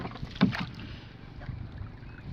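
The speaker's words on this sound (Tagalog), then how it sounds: "So, ayan si Mother Earth na ang magbubugsay" A single paddle stroke splashes into the sea from a boat with its engine switched off, followed by quieter lapping and a faint second dip, with wind noise.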